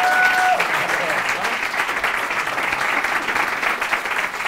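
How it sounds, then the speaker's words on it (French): TV show audience applauding on the French programme Kandidator as guests come on stage, a continuous broad clapping wash at moderate level, with a brief tone heard early on. "Je vous demande maintenant d'applaudir tous ceux qui vont arriver sur scène"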